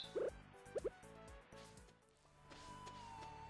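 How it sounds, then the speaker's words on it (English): Watering-can splashes and drips in the Stardew Valley video game come as a few quick liquid plips, then a soft trickle, faint and with no talk. "And water the crops."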